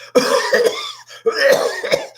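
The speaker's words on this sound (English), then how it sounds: "just start coughing hysterically" A person coughs hard in two rapid, ragged bouts separated by a short pause, each with several harsh, throaty hacks close to the microphone.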